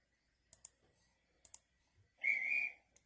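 A train guard's whistle sounds once, a loud shrill blast of about half a second, after a few scattered sharp clicks, with a final click just after it.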